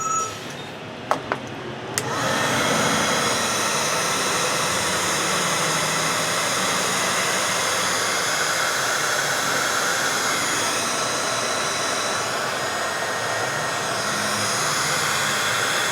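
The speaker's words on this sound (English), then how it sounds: "I'm gonna shrink wrap this right here." A heat gun shrinks heat-shrink tubing on the starter wires of an early Ford Bronco: a couple of clicks, then a loud, continuous blowing roar that holds steady throughout.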